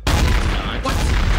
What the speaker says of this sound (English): I tried shooting you right in the face.